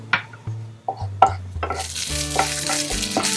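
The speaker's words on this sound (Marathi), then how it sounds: "चांगलं भाजायचं आणि सालीसहित लसूण ओबडधोबड असं छानपैकी भाजायचं." Dry coconut and unpeeled garlic cloves dry-roasting in a pan, with scraping stirs and knocks against the metal that give way to a steady frying hiss, close up and with no voices.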